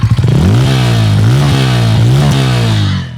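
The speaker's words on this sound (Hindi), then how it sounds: "इसका जो ओवरऑल एग्जॉस्ट नोट है वो भी मेरे को बहुत ज़्यादा पसंद आया।" A Bajaj Pulsar N160 motorcycle's exhaust revs up loudly and close, climbing from a sputtering idle into a sustained throbbing drone with repeated throttle pulses before easing off.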